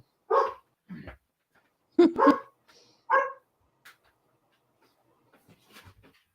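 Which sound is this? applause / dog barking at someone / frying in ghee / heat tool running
dog barking at someone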